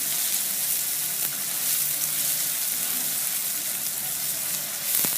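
Chopped onion and green chilies fry in a pan with a constant close hiss and crackle, a few sharper pops standing out near the end.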